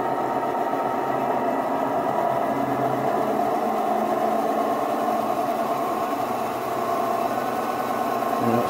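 A Hattons Originals Class 66 model locomotive runs at high speed, giving a steady, continuous motor whine and hum with a faint rattling vibration, unbroken and evenly loud throughout.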